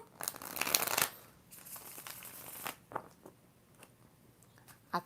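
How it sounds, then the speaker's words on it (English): A worn deck of tarot cards is shuffled roughly, with a dense papery riffle up front, a second softer burst, and then scattered light clicks and rustles as the cards settle. "I think I must shuffle too rough because after I shuffle a deck so long"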